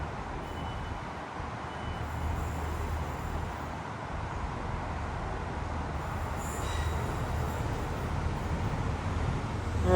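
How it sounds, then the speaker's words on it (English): A Bangor-bound train arrives at a station platform in Northern Ireland with a steady, building rumble of wheels and rail noise, plus a faint high squeal and beeping near the middle. "so here comes our train as you can see"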